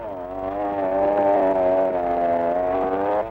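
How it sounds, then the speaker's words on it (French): A SAME four-wheel-drive tractor from 1967 works in the woods of the Dolomites, its engine droning in a steady, close hum that swells slightly and holds without a break. "Ces tracteurs qui font merveille dans les plaines et sur les collines sont tout aussi efficaces dans les bois."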